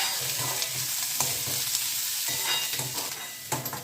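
Onions and curry leaves are stirred and sautéed in a pan for a Tamil potato fry, with a steady close sizzle and repeated scraping stirs throughout and no talking.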